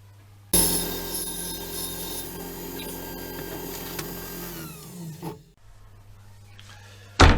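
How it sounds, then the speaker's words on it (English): Table saw set shallow cutting grooves into wooden side panels for bedroom cabinets, a loud sustained whining cut with rasping wood noise that winds down as the blade spins to a stop, then a brief knock at the end. "I just set the saw blade just to take a little nibble out, and that's what I'm doing now."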